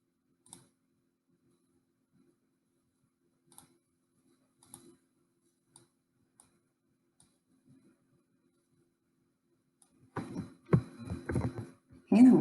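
Sparse, faint computer mouse clicks spaced out over a quiet background during PowerPoint drawing work, followed near the end by a burst of louder handling noise.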